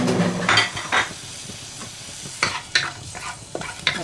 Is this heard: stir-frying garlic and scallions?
yes